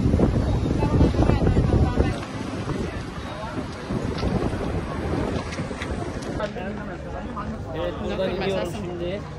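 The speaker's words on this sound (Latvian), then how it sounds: "Braucam kuģīti." A motorboat cruises across the water in Venice, its steady engine rumble mixed with wind buffeting the microphone and splashing water, while people talk over it.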